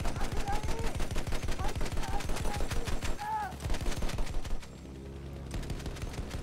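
Rapid automatic gunfire from a Battlefield 1 match, a dense rattling stream of shots that breaks off briefly and returns softer near the end, with game sounds mixed in.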